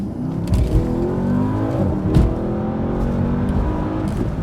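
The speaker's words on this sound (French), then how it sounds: "Les clapets d'échappement sont ouverts, donc ça fait plaisir." A powerful car accelerates hard with its exhaust flaps open, a loud, close engine roar that rises in pitch and stays strong for the whole stretch, with no voices over it.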